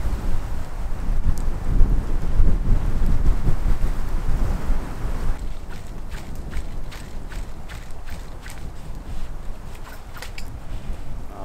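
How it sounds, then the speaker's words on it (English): Wind gusting hard against the microphone on a cold autumn camping trip, loud rumbling buffets that ease into a lighter steady blow with scattered small taps. "It's honestly mostly the wind that is just so annoying right now."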